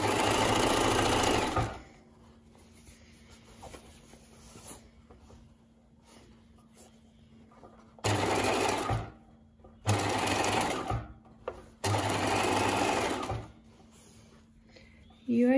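Sewing machine stitching a small sleeve seam on scrubs, loud steady motor runs in four bursts separated by quiet pauses.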